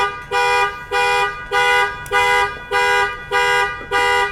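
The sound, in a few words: car alarm going off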